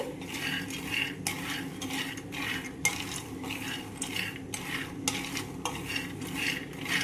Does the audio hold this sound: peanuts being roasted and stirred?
yes